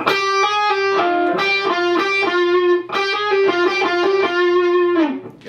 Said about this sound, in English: Hammer-on and pull off.